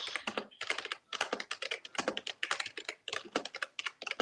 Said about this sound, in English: I know my keyboard sounds like Celine's.